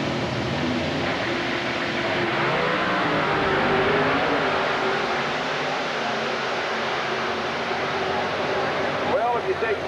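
A Pro Mod drag race car making a quarter-mile run at an IHRA event in Bristol, Tennessee, heard as a sustained, distant engine roar with crowd and track ambience, while a commentator talks over it.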